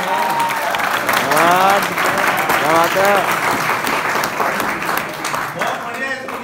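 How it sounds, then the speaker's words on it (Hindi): An audience claps loudly and continuously throughout, with a voice speaking over the applause. "तालियां ताली बजनी चाहिए"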